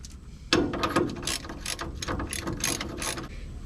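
Ratchet wrench clicking on a vehicle kingpin during replacement, a close sharp burst of rapid ratcheting clicks in short strokes, with no talk.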